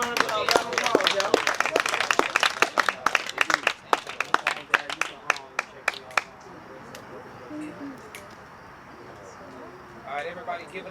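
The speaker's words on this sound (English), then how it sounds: "give me a round of applause" A small group claps enthusiastically for several seconds, the applause thinning out, with voices talking underneath and afterward.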